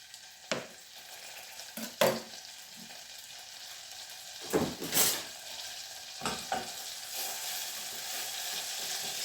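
Butter melting and sizzling in a frying pan with fresh garlic, a steady broad hiss broken by a few sharp clinks and scrapes of a utensil stirring against the pan, with no one talking.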